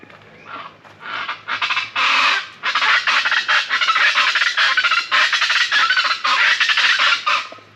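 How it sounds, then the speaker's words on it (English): Small turkey-like birds perched on a branch in mainland Mexico give a rapid series of loud, raspy, honking squawks in close repeated bursts, with no talk. "these are like small turkeys"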